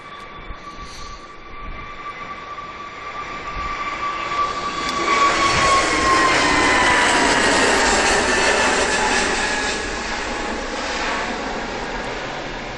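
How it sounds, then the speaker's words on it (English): An air tanker aircraft passes over Manchester Airport, a broad jet roar swelling loud as it nears and then fading away, with no voices over it. "Yep, air tanker in sight now."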